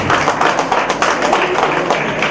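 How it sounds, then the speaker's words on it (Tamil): Audience clapping at a birthday celebration for a retired official at an academy in Chennai, a dense, steady patter of many hands that holds loud for the whole stretch without pause. "நல்லா கைத்தட்டி உங்களுக்கு சொல்லலாம்."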